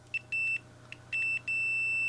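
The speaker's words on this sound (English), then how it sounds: "in continuity mode, when I have a short, I get a beep" A digital multimeter in continuity mode beeps on a shorted capacitor, giving several clear, steady electronic tones of varying length, with short gaps between them.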